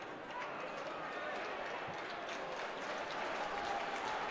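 A football crowd at a Port Vale versus Swindon Town match applauds in the distance, a faint, steady wash of clapping and stadium noise sitting under a commentator's voice.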